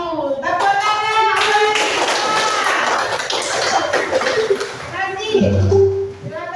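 Children in a classroom clap their hands in quick rhythmic patterns while young voices chant and call out over the claps, the room lively and close.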